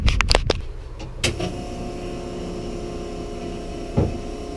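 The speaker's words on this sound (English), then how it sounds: "when a fuel pump sounds like this" A failing fuel pump in a SIL80 drift car gives a steady electric whine and hum, with a few sharp clicks and knocks near the start and a small bump later.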